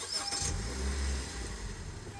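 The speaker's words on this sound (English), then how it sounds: "So, it is a push to start in this one." A car's engine catching after a push-button start and settling into a steady idle, close and moderately loud, with no talking.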